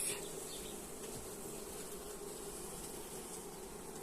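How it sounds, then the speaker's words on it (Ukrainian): A dense, steady hum of honeybees buzzing at an open hive, continuous and close, with occasional light clicks of frame handling. "Тут що в нас теж бджола є."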